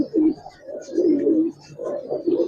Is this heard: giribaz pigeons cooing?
yes